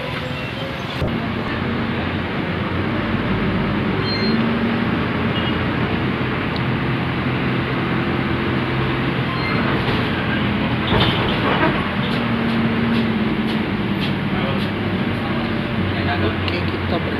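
Inside a TransJakarta city bus on route 6H, a constant loud rumble of engine and road noise runs throughout, with rattles and clunks of the cabin and people talking over it.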